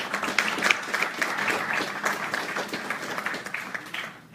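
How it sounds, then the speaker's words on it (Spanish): A crowd applauds steadily at a book presentation, dense clapping filling the room for several seconds before tapering off at the end. "Un aplauso para él, por favor."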